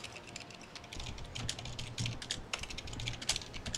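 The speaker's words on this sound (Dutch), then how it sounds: "Je bent druk aan het typen." Rapid typing on a computer keyboard, a quick, irregular patter of close key clicks and taps going on throughout with no talking.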